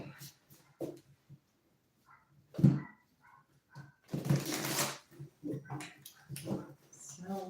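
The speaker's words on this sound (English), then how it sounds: "Sounds like a little dog." A small neighbour dog barks and yaps a few times at moderate distance, mixed in with a person talking nearby.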